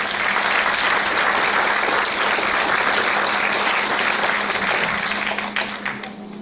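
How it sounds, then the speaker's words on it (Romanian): Steady, dense applause from a concert audience at an anniversary show in Vulcan, Hunedoara, honouring an award-winning performer, sustained loudly throughout before beginning to thin near the end. "Să-l aplaudăm încă o dată!"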